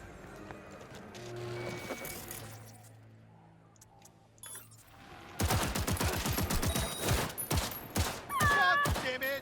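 Rapid bursts of smart gun fire in a video game, a dense fusillade that starts about halfway through after quieter game sounds and rattles on loudly to the end.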